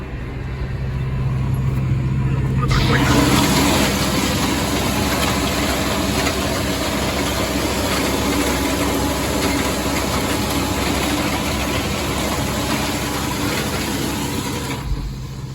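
A steady, loud mechanical drone of a tractor engine pulling a 6-metre seed drill with rattling machinery, constant throughout with no speech.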